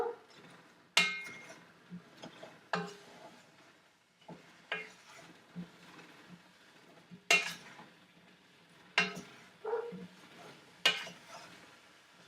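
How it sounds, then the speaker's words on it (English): A utensil stirs strawberry jam in a pot on high heat, with sharp clinks and scrapes against the pot at irregular intervals and a quiet simmer between, close and fairly soft. "this is on high heat, so you're going to have to stir it."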